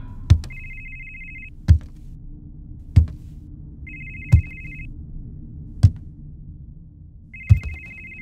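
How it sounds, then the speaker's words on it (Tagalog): An old cellphone stored in a cabinet rings with a repeating ringtone: sharp strikes about every 1.4 seconds, with a sustained trilling tone between some of them, against a low background hum and no voices. "Hinanap ko ang pinanggagalingan ng ringtone."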